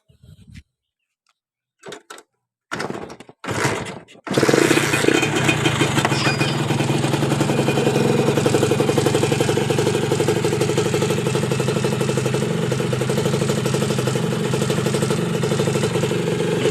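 A Honda Dash motorcycle engine cranks in a few short bursts, then catches and settles into a loud, close, steady idle with a rattly two-stroke clatter.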